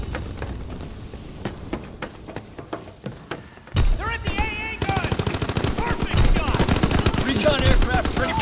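An AA gun fires in Call of Duty WW2: sharp, separated bursts give way to sustained rapid automatic fire that grows denser and louder, with a shouted voice and game audio mixed in.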